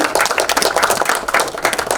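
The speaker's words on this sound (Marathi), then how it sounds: "प्रथमेश परबसाठी जोरदार टाळ्या" Audience applause for actor Prathamesh Parab at the Mumbai Local film trailer launch: a small crowd clapping in quick, uneven bursts close by, lively and continuous without speech.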